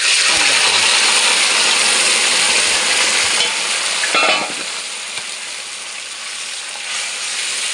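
Leafy greens, mixed with potatoes, sweet chillies and moong dal, hiss loudly in hot oil in a pan after being poured in, a dense steady sizzle with a brief clatter partway through that then settles.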